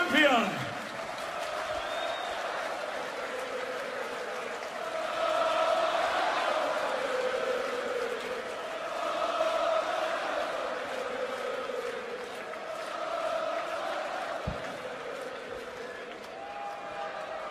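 Darts crowd in Minehead applauding and cheering after Michael van Gerwen is crowned 2016 Players Champion, a steady roar of clapping and voices that swells and ebbs for the whole stretch.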